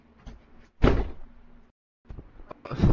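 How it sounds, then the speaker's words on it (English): A bedroom door is shut with a loud, close thump, followed by quieter knocks and a second bang near the end. "This is how I close my door."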